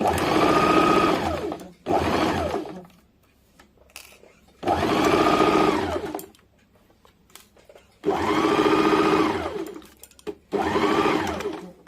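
Electric sewing machine stitching a blouse sleeve in bursts: four or five bouts of fast whirring needle action, each a second or two long, separated by short pauses with faint handling noise.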